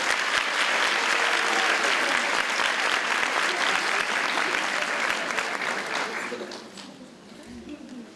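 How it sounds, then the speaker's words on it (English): An audience at a university welcome-week event applauds a visiting actress and singer, dense sustained clapping and cheering that fills the hall, then fades toward the end. "Please join me in a round of applause."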